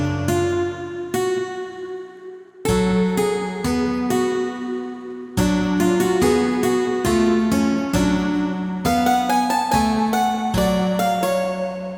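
Strings of Lucifer, a melodic synth preset for Arturia Pigments 4, plays a bright, harmonically rich string-like melody in short phrases of repeated notes that grow busier toward the end, with no voices over it.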